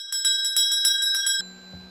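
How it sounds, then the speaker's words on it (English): A shop bell in the video game Strange Horticulture rings several times in quick succession with a bright metallic tone, then gives way to a low hum. "Okay, let's hit the bell."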